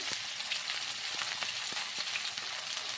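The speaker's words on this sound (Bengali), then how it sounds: "এখন নেড়ে ভালো করে মিশিয়ে নেব সমস্ত কিছু" Spices fry with tangra fish and cauliflower in a pan while being stirred: a steady close sizzle with faint, regular scraping taps of the spoon, fairly quiet and with no speech.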